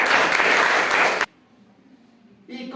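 Loud applause from an audience at a school quiz programme, a dense burst of clapping for just over a second that stops abruptly, followed by near silence and then a voice starting.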